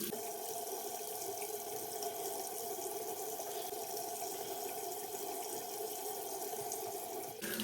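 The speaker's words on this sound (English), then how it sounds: "Let me rinse this off." Tap water runs steadily into a sink while foaming skincare cleanser is rinsed off hands, a close, continuous splashing rush that lasts the whole stretch.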